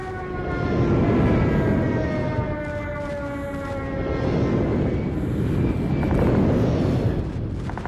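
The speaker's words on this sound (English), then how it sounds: "Friendly airstrike incoming." A friendly airstrike in the mobile shooter Call of Duty Mobile on the Nuketown map: a loud sustained roar of jet aircraft with droning, siren-like tones swelling and fading twice.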